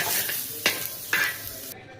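Ingredients fry in a pan, a close, continuous crackling sizzle punctuated by a few louder stirring scrapes, then cutting off abruptly near the end.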